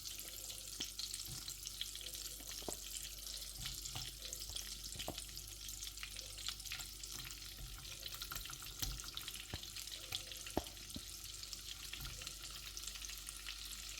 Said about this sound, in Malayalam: ഇനി നമുക്കിതിലേക്ക് ഓരോ പനീറായിട്ട് ഇട്ട് കൊടുക്കാം